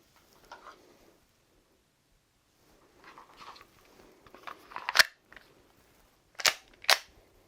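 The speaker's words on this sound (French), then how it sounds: "Voici maintenant le son d'une arme chargée." Metallic taps and clicks on the barrel of a loaded handgun with a round chambered, some soft and scrapy, then a few sharper strikes, close up with quiet gaps between.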